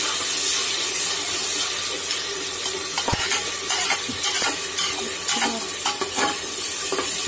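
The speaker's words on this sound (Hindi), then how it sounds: "टमाटर हमारे भुनने लगे।" Chopped tomatoes with turmeric and coriander powder frying in a pan for an arbi and shimla mirch curry, giving a steady close sizzle with scattered clinks and stirring scrapes throughout, no talk.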